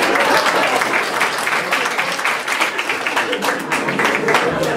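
A crowd at a World Day of the Sick gathering breaks into dense, sustained applause, loud and close, with many hands clapping at once.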